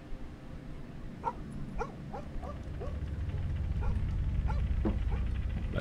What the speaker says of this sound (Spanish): escuché un perro ladrando afuera.